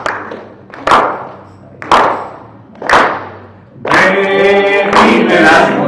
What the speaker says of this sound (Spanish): Así que vamos con nuestras palmas